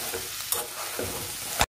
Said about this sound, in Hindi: अब डालेंगे इसमें सोयाबीन और सोयाबीन को अच्छे से मिक्स करेंगे।